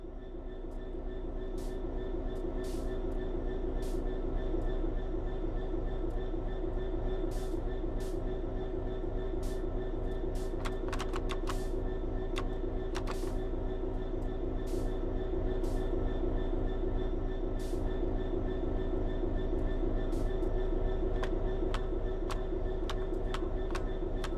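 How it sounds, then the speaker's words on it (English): A train in Train Sim World 3 rumbles along steadily with a low droning engine, rhythmic clattering over the rails and occasional sharp clicks on top. "We want to move the train forwards, so move the reverser in that direction."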